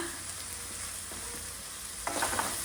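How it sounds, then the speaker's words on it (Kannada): Ridge gourd pieces sizzling in a hot pan with turmeric, a low steady hiss that turns into a louder burst of crackling and scraping near the end as the pieces are stirred. "ಚೆನ್ನಾಗಿ ಒಂದು ಸಲ ಕೈ ಆಡಿಬಿಟ್ಟು ಹೀರೆಕಾಯಿ ಹೋಳುಗಳನ್ನ ಹಾಕ್ಕೊಳ್ಳೋಣ"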